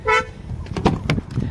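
A 2024 Kia Seltos HTX facelift tailgate closes: a brief electronic beep is followed by a couple of muffled thuds as the power tailgate shuts and latches, heard close up.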